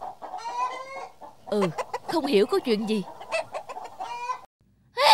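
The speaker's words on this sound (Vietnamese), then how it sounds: "sao hôm nay đàn gà kêu ầm ĩ lên thế nhỉ?" Cartoon chickens clucking and squawking loudly and close by in an animated folk tale, excited calls bursting out in clusters, with a person speaking briefly among them.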